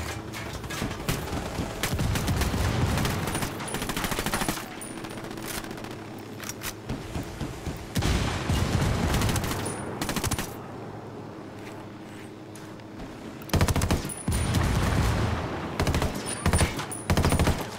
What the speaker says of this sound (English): I hear them explosions.